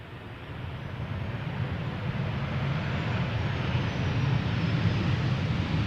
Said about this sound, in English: This is KLM Flight 1002, arriving from London Heathrow. It's a 737-800, the PHBXZ.